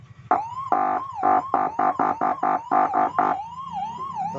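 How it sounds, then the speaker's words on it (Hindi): An ambulance siren unit under repair sounds a loud wailing tone that sweeps up and down, chopped into a series of rapid on-off pulses in the middle, then settles back into a steady warble. "यहाँ पे हम थोड़ा थोड़ा एम्बुलेंस का साउंड भी आ रहा है"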